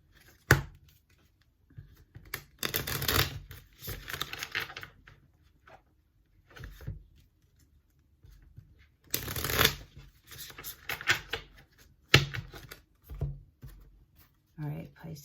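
A deck of tarot cards is shuffled in several bursts of riffling and patter, with pauses between, close and moderately loud, interleaved with a person speaking.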